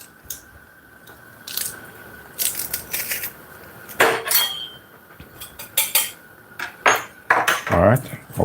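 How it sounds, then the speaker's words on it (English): Garlic crushed with a metal kitchen utensil for a steak and noodle stir-fry, a run of sharp, close clinks and crunchy scrapes in irregular bursts, with no voices. "we're gonna crush a garlic in this"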